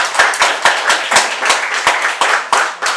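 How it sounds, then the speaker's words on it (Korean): A church congregation claps together in a worship service, about a dozen sharp, evenly spaced claps in a brisk rhythm, close and loud with no talk over them. "오랜만에 박수 한번 하겠습니다."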